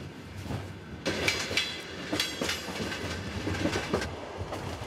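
A passenger train with sleeper carriages travels along a railway in Kazakhstan, its wheels giving a steady, rhythmic clickety-clack with recurring louder rail joint knocks, heard up close from on board.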